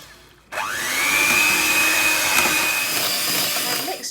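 A handheld electric mixer creams chocolate chip cookie dough, starting abruptly with a steady whirring motor whine that holds for several seconds before easing slightly.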